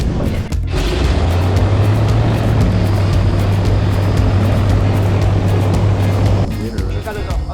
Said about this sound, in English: Give us earplugs because the fan's right there. It's gonna be a little loud.